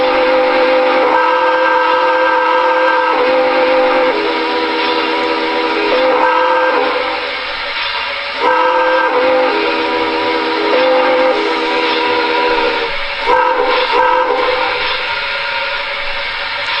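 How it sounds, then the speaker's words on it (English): Whistle of an MTH Premier NYC Niagara model steam engine, sounding loud and close as a series of sustained tonal blasts with short breaks and varied lengths, heard alone without talk. "the Aquila whistle on the MTH engines is not near as good"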